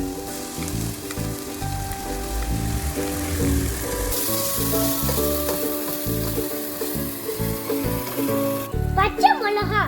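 Goat liver sizzling loudly in a hot pan while being stirred, a steady dense crackle close by with scraping stir strokes, and a voice speaking briefly over it.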